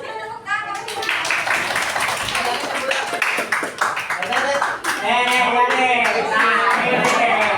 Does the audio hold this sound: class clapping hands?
yes